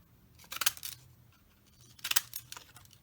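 Scissors snip through pieces of collage paper for a mixed-media board in two close clusters of crisp cuts about a second and a half apart, with quiet between them and no talking.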